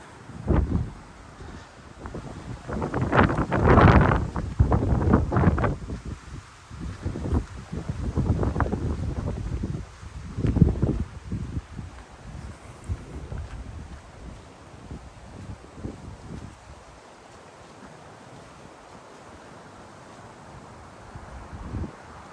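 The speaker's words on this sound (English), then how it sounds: "as we come out of that kind of sheltered area, it's got a little bit more wind now." Wind buffets the microphone at Agden Reservoir in the Peak District, loud rumbling gusts up front that ease into a steadier, softer blow with rustling.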